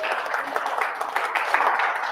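An outdoor crowd at an annual powwow applauds for an introduced coordinator, a steady, moderately distant wash of clapping lasting about two seconds without a break.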